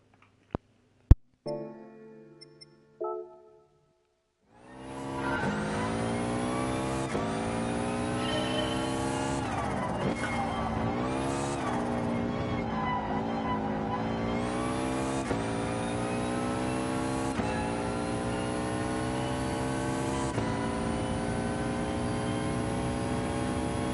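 A Jaguar F-Type's engine in the GT Sport racing game, starting after a few short menu beeps, then a loud sustained drone as the car accelerates, rising and falling in pitch with gear changes and throttle lifts, heard alone without talk.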